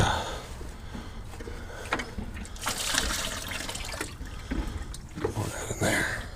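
Liquid, likely coolant, poured into a container while a timing chain and water pump are replaced on a 1978 Lincoln Ford 400 engine; a steady trickling, splashing pour runs throughout at close range, with no talk.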